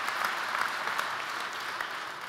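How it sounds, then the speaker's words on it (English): Steady, dense applause from a conference audience at a LoRaWAN industry talk, a continuous wash of many hands clapping at even loudness throughout, with no voices over it. "Hand of applause for Xavier from Microchip."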